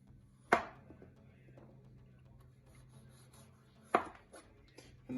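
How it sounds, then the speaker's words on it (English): Two sharp knife chops on a cutting board, spaced a few seconds apart, cutting an Otaheite apple into small pieces, with faint scraping and a quiet hum between strikes. "I'm gonna chop my apple into small pieces."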